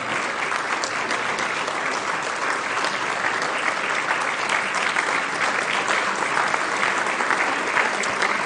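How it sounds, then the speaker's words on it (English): An audience at a public inquiry in Ottawa gives a standing ovation, with dense, continuous clapping from many hands that holds steady throughout. "So, Jerry, people are clapping and standing up for you."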